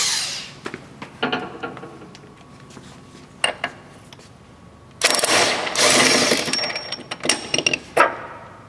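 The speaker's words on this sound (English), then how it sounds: "We have a cordless impact." A cordless impact wrench removes a bolt on a 2015 GMC Canyon. Scattered metallic clicks and taps come first, then a loud, close burst of whirring hammering, followed by a few sharp clanks.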